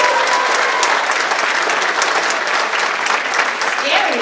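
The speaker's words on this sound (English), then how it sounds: "Everybody give it up for Rachel." A big convention panel audience with actress Eliza Dushku bursts into loud, sustained applause that fills the whole stretch, with scattered cheers and voices mixed into the clapping.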